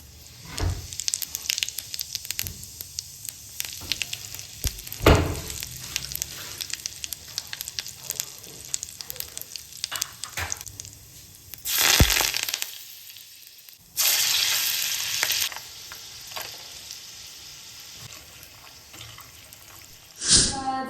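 Spices for a Marathi-style tempering crackle and sizzle in hot oil in a small kadhai, coming in bursts with louder spits and pauses, while a person talks over the cooking.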